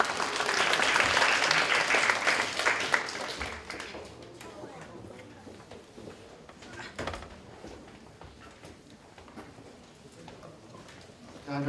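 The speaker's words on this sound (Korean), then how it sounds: "큰 박수로 맞아주세요." Loud, dense applause from a large audience at a knowledge forum lecture fills the opening seconds, then tapers off as scattered clapping fades under room noise and a voice.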